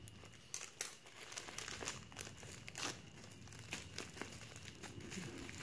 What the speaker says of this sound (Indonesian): melepas si lakban.